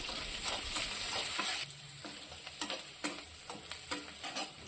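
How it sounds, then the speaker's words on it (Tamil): Onions and curry leaves sautéing in a pan, a bright hissing sizzle at first that settles lower, with a series of scraping stirs from a spoon close up. "வெங்காயம் நல்லா வதங்கட்டும்"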